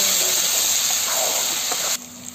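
Ginger garlic paste frying in a pan with golden-brown onions for malai chicken gravy gives a loud, steady sizzling hiss that suddenly drops to a softer simmer near the end.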